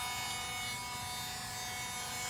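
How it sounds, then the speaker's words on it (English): A Dremel rotary tool grinds lightly around the edge of a tumbler cup, making a continuous close buzzing and rubbing drone with slight fluctuations and no talk. "Now I'm going to go back around it with the Dremel."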